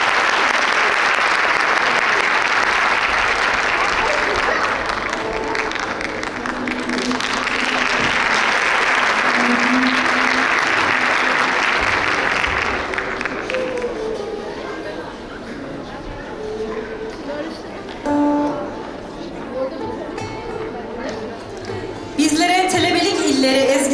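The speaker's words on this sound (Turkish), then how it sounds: "güçlü bir alkışlar isteyeceğim sizden" Strong crowd applause for the conductor at a children's choir concert, dense loud clapping for about thirteen seconds that then fades into quieter room sound and talking.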